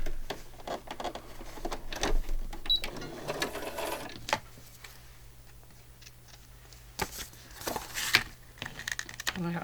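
A sewing machine stitches a journal binding in short mechanical bursts of rapid clicking, separated by quieter pauses with small handling clatter nearby.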